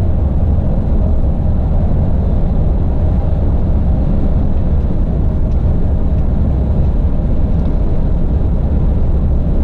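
A car rolls in eco-roll coasting mode at around 90 km/h, heard from inside as a steady, loud, low road and wind rumble with an even drone throughout and no voices.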